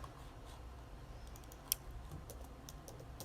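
Computer keyboard typing while entering text in Excel: a few light, scattered key clicks, faint and close, with one sharper tap midway and no voices.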